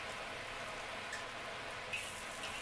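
Garlic and Sichuan peppercorns frying in hot oil in a wok, a soft continuous crackling sizzle with faint pops, fairly quiet and steady with no talk.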